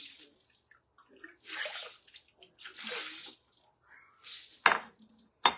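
A sponge being rinsed and squeezed out while cleaning a stain, giving several close, separate bursts of splashing and wringing water, each lasting about a second. Two sharp clicks or knocks come near the end.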